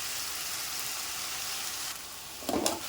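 Drumstick leaves hit a hot pan for a Tamil-style chutney, giving a steady close hiss of sizzling that drops slightly near the end before a short burst of stirring clatter.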